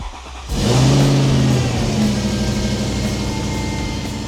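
A Mercedes E55 V8 catches just after a jump start, the engine surging up to a loud, close rev within the first second and then settling into a rough, uneven running note.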